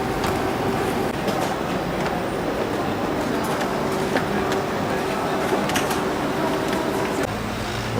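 A train at Nice station in France gives a steady mechanical rumble with faint tonal hums and scattered clanks and squeaks, close and continuous throughout.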